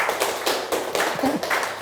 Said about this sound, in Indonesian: tepuk tangan buat Bu Lela.